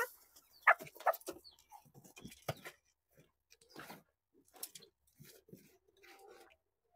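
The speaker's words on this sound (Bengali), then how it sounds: "প্রাকৃতিক ভাবে দেখেন আপনারা আমাদের মুরগিগুলো কিভাবে খায়।" Free-ranging tiger and local chickens cluck softly while feeding, sparse short calls and pecking sounds scattered among quiet gaps, fairly close and faint overall.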